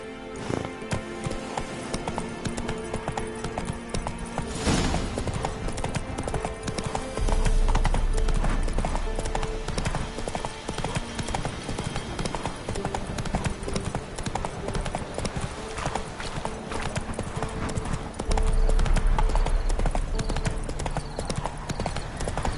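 Galloping clip-clop of the horse Roach in The Witcher 3, a steady rapid hoofbeat rhythm running throughout, fairly loud and close, with game sounds layered around it.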